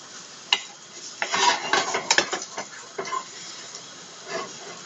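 Radishes are stirred and turned in a frying pan, giving irregular clinks and scrapes of utensil on metal over a soft, steady sizzle, close and clear.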